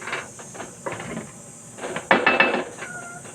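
A spoon works through vegetables and mung beans simmering in coconut milk in a pot, making intermittent scraping and clinking bursts over a steady hissing simmer.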